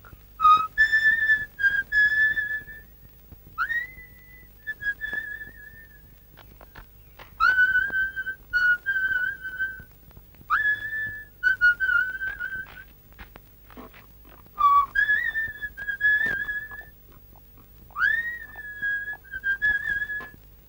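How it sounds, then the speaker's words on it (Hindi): A person whistling a tune, clear and close, in melodic phrases with short gaps and rising slides, heard alone without talking over a faint low hum. "सीटी तो तुम बहुत अच्छी बजाते हो"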